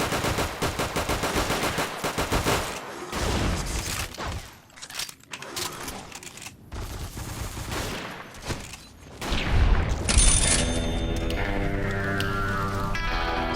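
Rapid automatic gunfire with hollow-point bullets in a heavily modded Fallout game, loud repeated shot bursts and clattering mechanisms, with a short pause before more firing and a chiming tone near the end.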